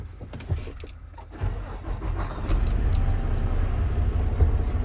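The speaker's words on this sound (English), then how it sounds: "I'm going to go ahead and start the truck, rev the engine, and take it to cutout." Truck engine starting at an air-brake inspection, with a click and crank followed by a low rumble that gradually builds into a steady, louder idle nearby.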